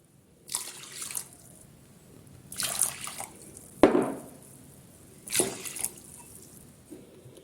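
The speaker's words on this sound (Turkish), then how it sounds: "Yıkamış olduğumuz mercimeğimize 5 su bardağı suyumuzu ilave edelim." Hot water is poured in several separate bursts onto washed lentils in a pot for a lentil köfte recipe, each pour a short splashing gush followed by quiet dripping, close and clear with no talking.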